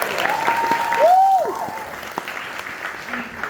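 An audience at a staged play of It's a Wonderful Life claps in a short burst of applause, with a brief tone over it before the clapping thins out.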